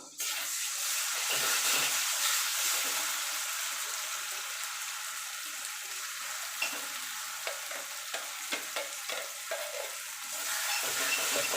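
Pointed gourd paste frying with onions in a pan and being stirred, a continuous sizzle broken by a run of soft spoon scrapes and taps toward the end, with no talk.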